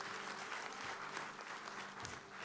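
Congregation applause during a Sunday afternoon church service, a continuous even spread of clapping from many hands, quiet and distant, with a faint hum beneath it.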